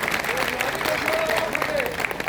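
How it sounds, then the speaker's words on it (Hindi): Crowd applause at an Indian political rally, steady clapping filling the clip with a voice faintly audible underneath. "जोरदार ताली बना के स्वागत करा"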